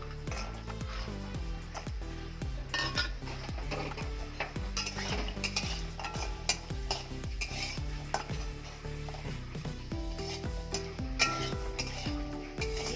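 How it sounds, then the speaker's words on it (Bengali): Lentil dumplings (bori) fry in hot oil in a wok, a steady soft sizzle with repeated metallic clinks and scrapes of a spoon stirring against the pan throughout. "তেলটা গরম হয়ে গেছে বড়িগুলো ভেজে নেব"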